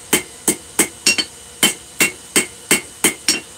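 A hammer strikes a metal die with its flat side, roughly ten sharp ringing blows in a steady rhythm, close and loud with no talking.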